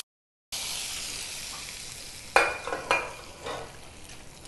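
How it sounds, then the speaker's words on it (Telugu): Hot tempering poured into a boiling carrot kootu and stirred in: a sharp burst of sizzling follows a moment of silence, then several distinct stirring scrapes and clinks sound close over the continuing hiss. "స్టవ్ ఆపేసి ఈ తాలింపుని ఉడుకుతున్న ఈ కర్రీలో వేసేసుకోవాలి."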